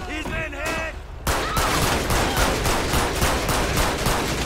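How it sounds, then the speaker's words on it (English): Heavy gunfire in the LSPDFR police mod for GTA: after a short spoken line, a loud, dense fusillade of rapid automatic shots starts and keeps going with no break. "I'm taking heavy bullets right now."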